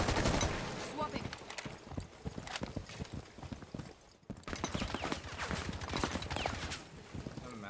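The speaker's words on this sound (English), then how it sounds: "He's shooting from master." Gunfire in a Rainbow Six Siege-style tactical shooter, rapid sharp shots rattling in quick bursts close by, with players talking over them in between.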